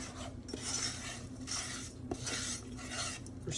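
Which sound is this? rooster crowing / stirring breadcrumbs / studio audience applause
stirring breadcrumbs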